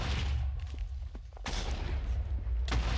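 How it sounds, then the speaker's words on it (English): Explosions go off in the video game Avatar: Master of Elements, with two sharp booming bursts against a rumbling background and no talking. "Explosion! Explosion!"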